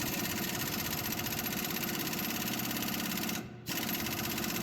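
A Matco (Schley) BJP18100 press working on a Chevy 3500HD gives a loud, steady mechanical drone that holds throughout, except for one brief dropout near the end.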